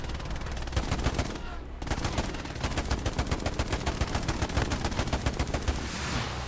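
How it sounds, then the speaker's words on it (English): Rapid gunfire from the World War II shooter Hell Let Loose, with dense overlapping automatic bursts and single shots crackling without a break near and far, broken by one short lull. "Keep shooting"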